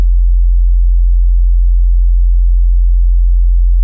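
A steady, pure low synthesized bass tone from a pad-triggered synth holds unchanged at a constant level, then cuts off abruptly at the end.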